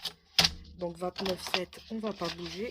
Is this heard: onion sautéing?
no